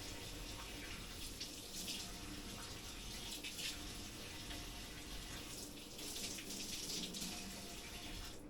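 Raw chicken breast rinsed under a running kitchen tap, a steady broadband rush of water that stays loud and continuous throughout, with brief splashy surges as the meat shifts in the stream.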